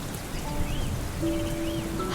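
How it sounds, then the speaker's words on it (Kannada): Heavy rain pours steadily over a village, a dense continuous hiss filling the whole stretch, with a few faint thin tonal calls drifting above it. "ಇಡೀ ವಾರ ಕಳೆದೋಯ್ತು, ಆದರೂ ಈ ಮಳೆ ನಿಲ್ಲುವ ಲಕ್ಷಣವೇ ಕಾಣುತ್ತಿಲ್ಲ."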